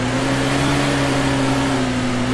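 Car driving in the video game DayZ, a steady mid-pitched engine drone with a constant hum, loud and continuous throughout with no voices.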